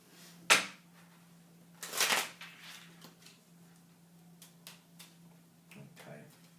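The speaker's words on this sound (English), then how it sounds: "Let's see if we can pull off a quick shuffle like this." A quick shuffle of a deck of playing cards during a maths card game: two sharp riffling bursts, the second longer, followed by scattered light taps and clicks, close and fairly loud.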